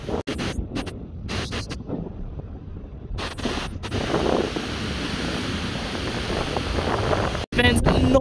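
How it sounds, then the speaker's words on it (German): Large storm-driven ocean waves break on a windy coast, a continuous roaring wash of surf with heavy wind buffeting the microphone, steady and loud throughout with a brief dropout near the end. "Die Wellen sind noch größer geworden."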